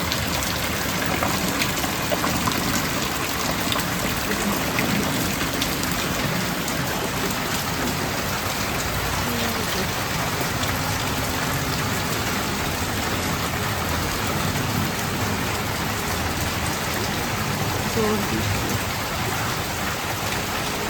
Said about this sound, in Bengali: রাত থেকে প্রচুর বৃষ্টি।